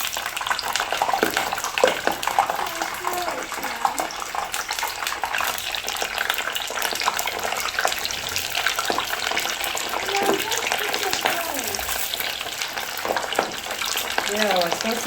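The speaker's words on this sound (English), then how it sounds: "Now I just want to deep fry them." Steady crackling sizzle of sausages deep frying in oil in a pan, continuous and close, with occasional pops and faint clinks over the bubbling.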